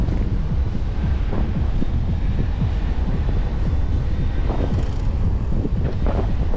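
Strong wind buffets the microphone during a December bike ride around Adler and Sirius in Sochi, a continuous loud rumbling roar with gusty swells and no voices.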